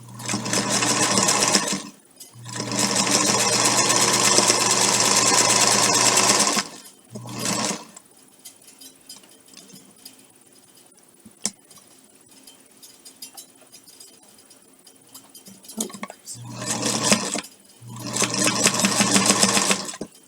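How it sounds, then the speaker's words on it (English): Sewing machine top stitching a quilted bowl holder, running in steady whirring bursts of a few seconds each, separated by short pauses and a long quiet gap, with no talking. "It does make it sew a lot easier on this top stitch when you don't have all the layers of batting with it."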